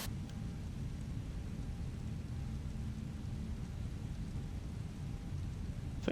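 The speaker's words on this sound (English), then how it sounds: "can hear some rain, but there's no moisture on the screens, on the windscreens" Steady rain in an Airbus A320neo cockpit in Microsoft Flight Simulator, a constant soft hiss with a low rumble underneath, unchanging and fairly faint throughout.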